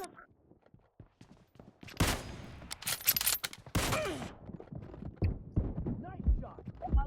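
Gunfire in the mobile battle royale game PUBG Mobile comes as sharp bursts and single shots, some clustered into rapid volleys, mixed with scattered softer impacts and faint voices in the background.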